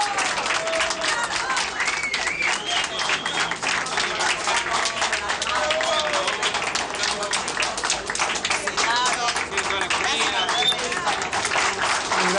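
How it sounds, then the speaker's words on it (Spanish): Sustained, loud crowd applause for a mayor, thick and continuous for over twelve seconds, with cheering and voices woven through it. "le damos un aplauso, un fuerte aplauso al señor intendente que ha venido acá"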